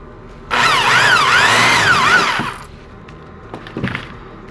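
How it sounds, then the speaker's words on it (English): A power drill bores a hole in a recycled tin can, a loud whining burst of about two seconds with a wavering pitch, followed by faint clinks and handling of the metal. "I drilled two one way, one the other, because one's a nose"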